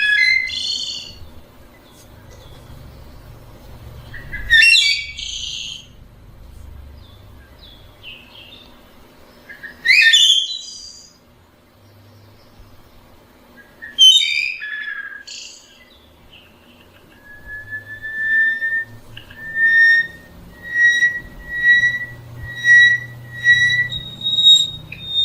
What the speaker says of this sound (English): the bird sounds that you're hearing are coming directly from the flame